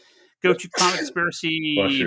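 A single sneeze bursts out loud and close during a podcast sign-off, with people talking immediately around it.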